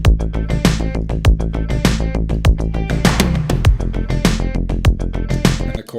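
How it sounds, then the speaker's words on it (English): Full song mix of driving drums, bass and layered guitars playing together, loud and steady with punchy rhythmic hits throughout, no voices. "And so kind of all together with drums, bass, and these guitars, it sounds like this."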